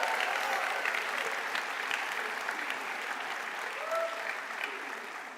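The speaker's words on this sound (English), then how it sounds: "Families, give yourselves another round of applause because you did it too." Families in a college commencement crowd applaud steadily, a dense wash of many hands clapping that holds at an even level throughout, with a faint voice briefly audible beneath it.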